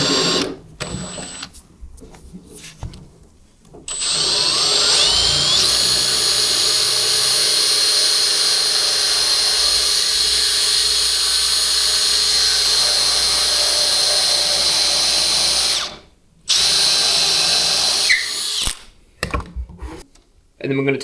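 A power drill with a 7.5 mm bit bores into a bi-fold door, whining steadily for about eleven seconds after a few short starts, then stopping briefly and resuming in shorter bursts, loud and close.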